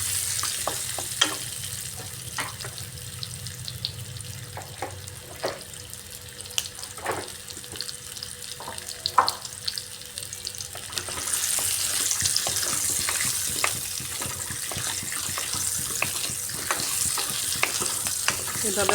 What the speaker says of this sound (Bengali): গ্যাসের ভিত ফুল রেখে এগুলোকে হালকা ফ্রাই করে নিচ্ছি